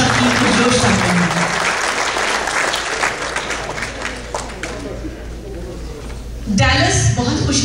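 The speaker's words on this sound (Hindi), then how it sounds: "पुरजोश तालियों में इस्तकबाल कीजिए जेरे सरपरस्ती हमारी डॉक्टर शमसा कुरैशी साहिब" Audience applause fills a mushaira, an Urdu poetry gathering held in Richardson, Texas: dense, sustained clapping from a large crowd that thins out midway, then swells again near the end, with a speaker's voice over it.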